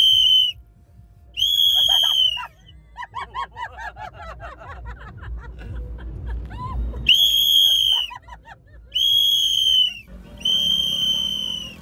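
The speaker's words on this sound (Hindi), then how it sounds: "आंखें खुली रखने के लिए मैंने खरीद ली ये सीटी।" A handheld whistle blown by a traveler stuck in a long traffic jam during the Kawad Yatra near Haridwar: several loud, shrill sustained blasts, with a burst of rapid trilled tweets in between over low rumbling background noise.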